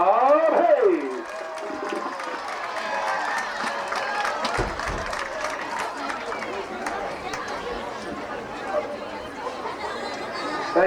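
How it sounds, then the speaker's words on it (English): A high school homecoming pep rally crowd breaks into sustained clapping mixed with chatter after a brief voice at the start, a dense, even wash of applause filling the space. "A big round of applause and a big thank you for auctioneer Bob Hayes."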